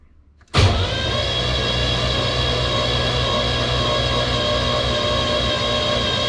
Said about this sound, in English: so now if I crank the car over